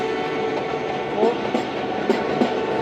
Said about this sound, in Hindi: लाहौर आउटसाइड खड़ी है दोस्तों ट्रेन, तो सामने से रवाना हो रही है।